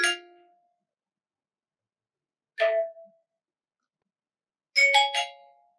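A custom iPhone notification sound chimes three times, bright bell-like dings separated by silence, the last a quick doubled tone.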